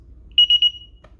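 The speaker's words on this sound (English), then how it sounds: "3 beeps, system's dialing out." A DSC alarm panel dialing out gives three short, clear, evenly spaced beeps, loud and close, followed by a faint click in an otherwise quiet room.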